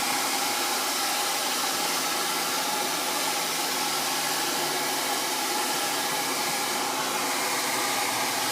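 A hair dryer blows hair dry in a steady, loud, unbroken whoosh that runs close and constant for several seconds with no voices over it.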